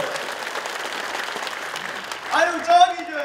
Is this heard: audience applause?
yes